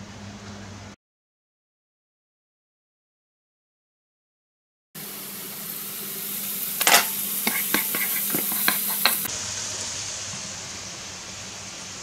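Onion, mushrooms and turmeric fry and are stirred in a pan for fried rice, a steady close sizzle with scraping stirring clicks, after a silent gap at the start.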